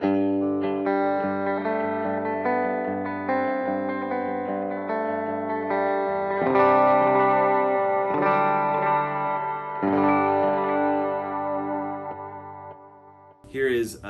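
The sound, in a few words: guitar plate reverb preset on Strymon Timeline pedal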